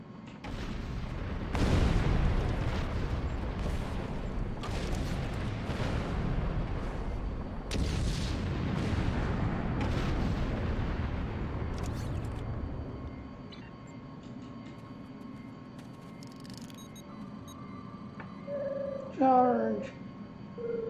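Bombing explosions in Star Trek Online, a series of deep booming blasts and rumbling impacts over the first half, then fading into quieter ambience with someone talking.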